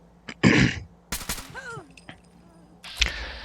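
A silenced, scoped service rifle fires in Fallout 4, with a few sharp muffled shots and a clatter of mechanical handling between them, short bursts separated by quiet gaps, fairly close and moderate in level.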